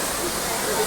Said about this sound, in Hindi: ये देखिए झरना है यहाँ पर